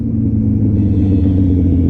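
A motorcycle engine rumbles loud and close in a steady deep drone while the rider downshifts with a rev-matching throttle blip on the street; the blip itself is not clearly distinct within the continuous engine sound.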